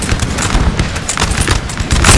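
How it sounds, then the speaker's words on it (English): Dense battle din from the video game Napoleon: Total War, with continuous overlapping musket volleys and booming cannon explosions packed tightly together, loud and chaotic throughout with no clear gaps. "Explosions going off in the distance."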